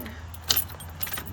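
Keys jangle in a brief bright burst near the start of a 1999 Ford E Super Duty V10 Triton camper that won't shift into gear, over a steady low engine-like rumble.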